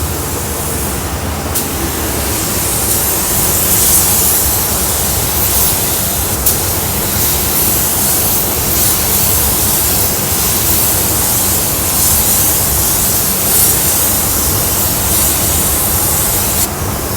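Spray hisses continuously onto a Chevy Sonic as one loud, close, unbroken aerosol-like rush lasting the full stretch of over fifteen seconds, with no talking.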